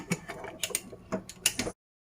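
A pressure cooker lid is twisted open over potato curry, giving a quick run of close metallic clicks and ratcheting scrapes that stop abruptly.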